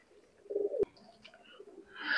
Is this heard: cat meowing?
no